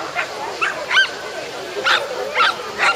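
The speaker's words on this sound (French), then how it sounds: "Le chien se trouve ici." A Shetland sheepdog at a junior dog agility session barks and yips in short repeated bursts, with several sharp calls spread evenly across the moment and quiet gaps between them.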